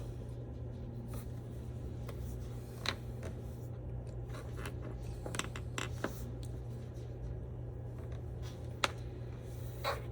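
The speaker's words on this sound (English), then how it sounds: "take your crayon and write your name on the back of your paper" A crayon scratching out a name on the back of paper during a school art lesson, faint intermittent strokes and small ticks over a steady low room hum, with no talking.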